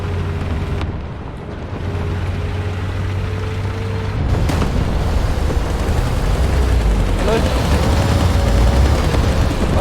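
Centurion Mk10 tank in War Thunder firing its gun, a couple of sharp loud blasts over a rumbling engine and battle noise, with no talk.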